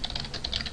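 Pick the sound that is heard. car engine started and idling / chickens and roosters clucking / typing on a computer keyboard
typing on a computer keyboard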